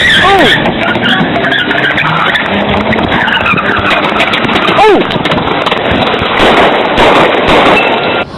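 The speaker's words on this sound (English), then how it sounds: "Dolton police say both officers opened fire on Wilson" A car speeds off with loud tire screeching and engine roar in police body-camera footage, several sharp sweeping squeals through a constant loud din, with the harsh noise filling the whole stretch.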